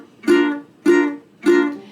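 Three staccato down strums on a ukulele, each chord cut short by a left-hand mute so it dies quickly, evenly spaced, close and clear with no talking.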